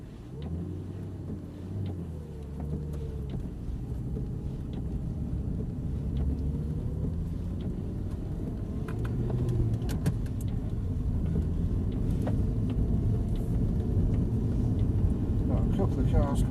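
An Audi R8 engine rumbles low and steady as the car pulls away in first gear on a race track, the drone building gradually in loudness, with an instructor talking over it throughout.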